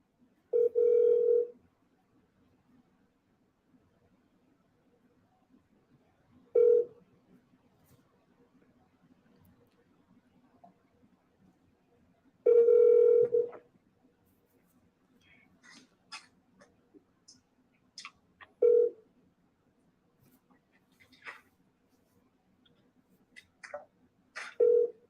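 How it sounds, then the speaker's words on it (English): Telephone ringback tones repeat at long, regular intervals during a call to a broker, each a steady buzzing ring separated by quiet, with faint clicks and brief tones between. "I'm gonna call again."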